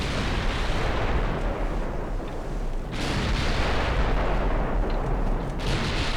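Heavy 14-inch naval shells fire in a World War I-era dreadnought battle in Ultimate Admiral: Dreadnoughts, a loud rolling barrage of deep booms that overlap almost continuously, with sharper fresh blasts near the middle and toward the end.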